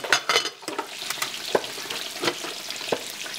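Grits being stirred in a pot, with a series of soft scraping taps and spoon knocks over a faint background sizzle.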